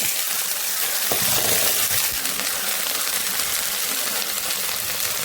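Ivy gourd is dropped into hot oil on a tawa and gives a loud, continuous sizzle and hiss. A short clatter sounds early on, then the frying roar holds steady to the end.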